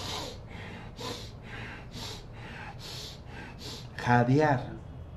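A man imitates a hunting jaguar panting through its nose, with a steady series of sharp rhythmic breathy huffs, then a louder voiced snort-like growl near the end, close and alone.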